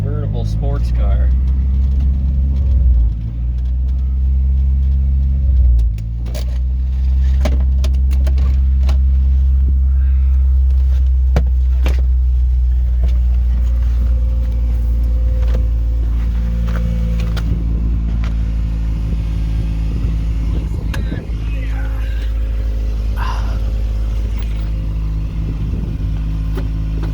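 Small engine of a Geo Metro convertible revving and dropping as gears are shifted, steady low droning rumble with pitch steps between gears, loud and close throughout.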